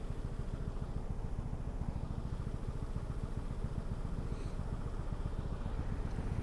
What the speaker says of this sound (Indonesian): Oke, masih ada motor lewat.